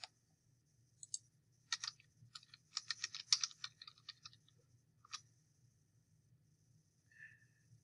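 Soft keyboard typing in short irregular bursts of clicks, faint and close, over a low steady hum, with no speech.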